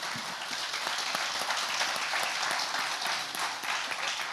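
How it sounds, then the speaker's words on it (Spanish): Church congregation applauding at a Christmas service in Tijuana, a dense, steady wash of clapping that holds at even loudness for several seconds with no voices over it. "Denle un aplauso al Señor."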